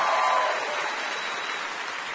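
Studio audience applause at a radio quiz show taping, a dense, steady wash of clapping that starts loudest and eases off slightly over two seconds, with no talk over it.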